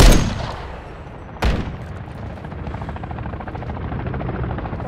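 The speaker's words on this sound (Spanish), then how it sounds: "Helicóptero de vigilancia en el área." In a Modern Warfare 3 match, a surveillance helicopter's rotor drones steadily while loud gunshots crack at the start and again about a second and a half in, followed by softer rapid fire in the background.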